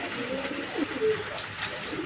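A pair of big white beauty pigeons coo softly in a pigeon market, low brief calls sitting under a constant murmur of background noise.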